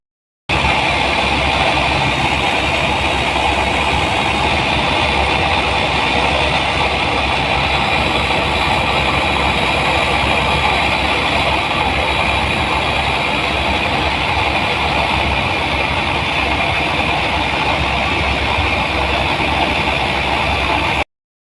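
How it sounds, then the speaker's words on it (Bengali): A motorboat engine drones steadily at close range as the boat turns, loud and unbroken throughout, with no voices, on a river near the Rooppur power plant. "নৌকা ঘোরানো হচ্ছে এখন।"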